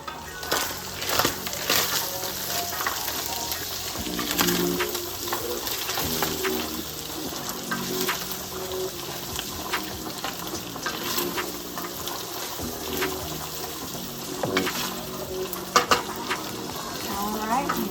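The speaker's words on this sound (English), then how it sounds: "I'm going to place the garlic in here, in your ground meat, and just let that heat up for about a minute." Garlic and ground meat cook in a pan for baked spaghetti, giving a steady soft sizzle with scraping and stirring clatter throughout, and occasional light clinks near the end.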